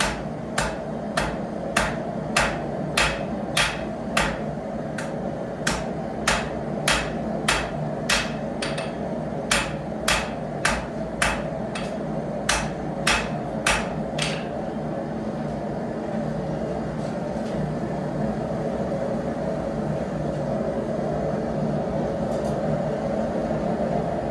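Hammer striking hot iron on an anvil while forging nails, a fast run of sharp ringing metallic blows in an even rhythm over a steady background hum, then only the hum once the blows stop.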